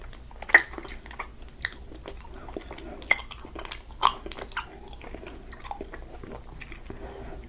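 Close, soft chewing of mochi ice cream, with sticky mouth sounds and occasional sharper bites spaced irregularly over a quiet background, no talking.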